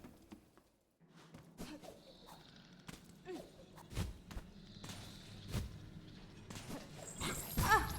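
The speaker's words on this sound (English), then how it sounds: "Getting mauled by the dog." A snarling dog enemy attacks the player in the video game Hollow Knight: Silksong, with growls, yelps and quick whooshing strikes over busy, continuous game sound.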